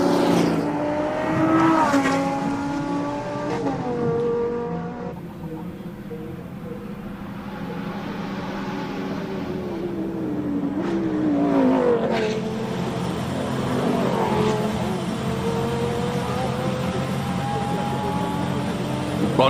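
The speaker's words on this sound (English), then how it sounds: "Let's just listen to this Lambo, Arnie." A V10 Lamborghini race car roars at a hillclimb event, revving and changing gear as it climbs. The engine sound is loud and continuous and swells past the listener, with commentators talking over it.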